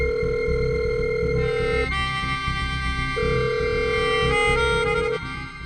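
An unanswered phone call rings with a repeating electronic tone, steady pulses broken by short pauses, heard over a low background music bed.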